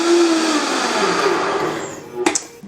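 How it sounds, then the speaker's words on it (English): A blender whirs loudly on high while blending chocolate mousse, a steady roar that tapers near the end before a few short clunks and knocks. "This blender is so loud."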